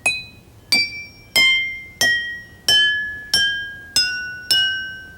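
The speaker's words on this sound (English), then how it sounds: "start at the top with that little glass and take the spoon and wrap" A spoon strikes a row of water-filled drinking glasses one after another, eight clear ringing tings spaced evenly, each decaying slowly, played close and loud with no talking.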